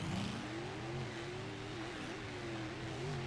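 Gravedigger monster trucks launch at a race start in Salinas, California, their engines roaring and revving loudly and continuously with rising and falling pitch.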